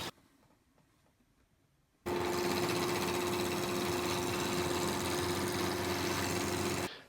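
A wood lathe turns a 20-inch birch blank while a dust collection system pulls chips away at the cut; after two quiet seconds a loud, steady machine roar with a constant hum starts up and holds to the end.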